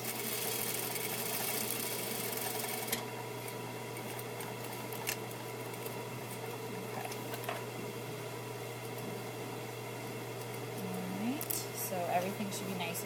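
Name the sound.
sewing machine stay stitching fabric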